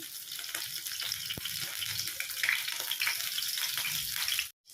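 Pumpkin-leaf fritters made with mourala fish fry in oil, producing a dense, even crackling sizzle up close with a single sharp tap, cutting off abruptly near the end; no voices.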